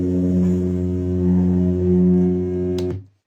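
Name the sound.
film projector motor hum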